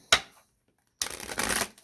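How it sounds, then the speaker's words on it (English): A deck of tarot cards is shuffled up close: one quick riffle, a short pause, then a longer, brisk flurry of shuffling, with no one talking. "One more shuffle."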